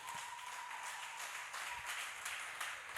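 Faint, distant clapping from an audience at a French-language praise and worship concert, a soft continuous patter of many hands without voices.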